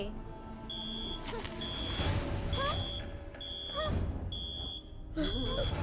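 A cartoon alarm beeps in short repeated pulses over a busy background of music, whooshes and effects, with squeaky voice-like chirps in between.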